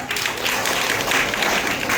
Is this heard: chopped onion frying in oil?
no